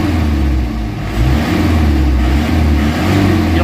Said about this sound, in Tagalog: kita nyo na yung galit ng makina